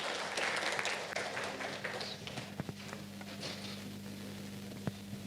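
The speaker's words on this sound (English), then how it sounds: "Can we please have a huge round of applause for them?" Audience applause at a startup accelerator demo day pitch event, steady dense clapping through the whole stretch with a few sharper claps standing out, moderately loud and without talk.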